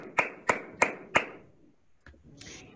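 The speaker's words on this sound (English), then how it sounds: "Big round of applause." A small workshop audience claps for a guest presenter: four sharp, evenly spaced claps close by in a quiet room, then a few faint taps and rustles.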